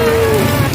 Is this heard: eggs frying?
no